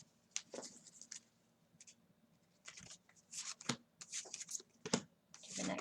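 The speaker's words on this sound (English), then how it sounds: "Let's shuffle." Tarot cards shuffled by hand in a series of soft, close riffles and slides, irregular bursts separated by brief quiet pauses, faint and intimate with no talking.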